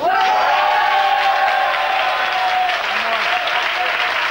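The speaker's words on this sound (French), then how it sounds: "On va applaudir les costumières." A party crowd at a Toulon celebration bursts into loud, dense applause for the costume makers, with cheers and a few whoops, sustained close and full for several seconds.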